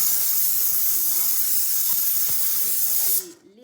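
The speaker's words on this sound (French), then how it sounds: "La même chose, je vais envoyer la vapeur" A Vapodil steam cleaner blows a strong, continuous hiss of steam inside an oven, close and loud, before cutting off abruptly near the end to leave faint background sound.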